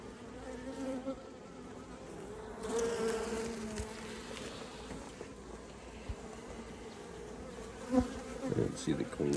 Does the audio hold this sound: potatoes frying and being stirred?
no